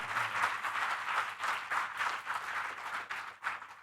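A seated audience at a talk claps steadily in a faint, even ripple of applause, distant and without voices.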